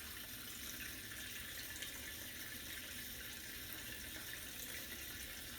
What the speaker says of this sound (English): Now let me just do a cold water rinse first.